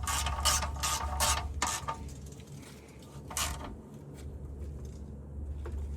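A ratchet tightens the oil drain bolt on a 1997–2003 Ford F150, with a few fast, close clicking strokes over a low steady hum, then fading into quiet shuffling.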